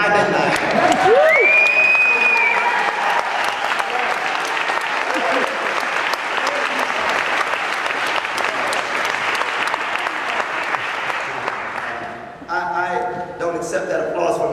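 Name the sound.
audience applause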